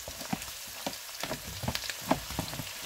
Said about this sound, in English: we let the onion and garlic fry up in the hot oil.